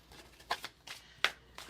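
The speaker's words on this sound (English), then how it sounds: "And we're going to go ahead and start shuffling right now." Tarot cards being shuffled by hand, a few soft riffling bursts with short pauses between them, close and fairly quiet, with no talking.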